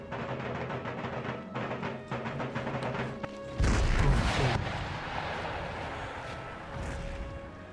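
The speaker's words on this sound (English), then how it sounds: "my field artillery are going to open up on their guns" Howitzers and field artillery firing in Empire Total War: a heavy, booming cannon blast bursts out midway over a steady layer of game music and battle ambience, with a long rumbling decay.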